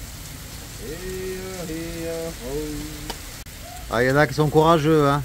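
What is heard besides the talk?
rain shower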